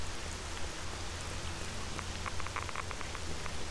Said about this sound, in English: It'd be nice if the rain stopped at some point.